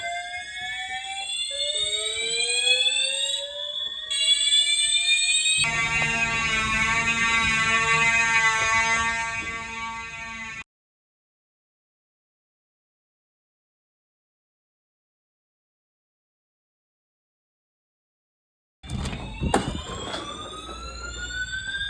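A fire alarm system activation with loud, sweeping electronic tones and a harsh continuous buzzing alarm that cuts off abruptly, then a long silence before the sweeping tones return, with no speech.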